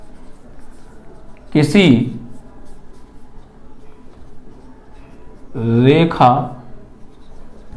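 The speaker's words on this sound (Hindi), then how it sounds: "तो यहां पर मैं लिखता हूं" Faint hand-writing scratches run steadily beneath someone speaking during a maths lesson, with two short stretches of talk standing out over the quiet writing.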